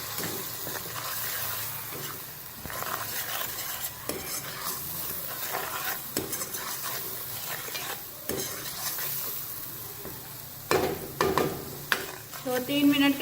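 Curry mixture for pakora kadhi stirring and frying in a pan, a continuous close sizzle with scraping spoon strokes and occasional metallic knocks, louder clattering toward the end, no talking.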